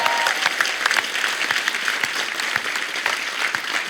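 A television comedy show's studio audience claps steadily, a dense, even patter of many hands sustained throughout with no talking.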